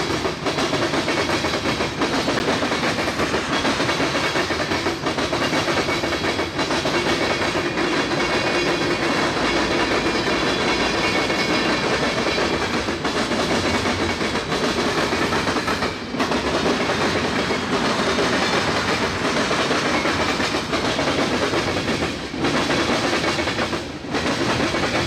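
Metra commuter train rolling past a rail junction in West Chicago, a long continuous rumble with rhythmic wheel clicks over the rail joints, loud and close the whole time.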